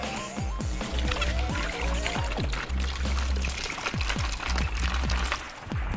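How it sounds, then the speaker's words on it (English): Vodka glugs from a bottle into a big batch of Halloween jungle juice punch, a loud, close, continuous pour with rhythmic gurgling bubbles and sloshing. "Now we coming behind that Everclear with some vodka."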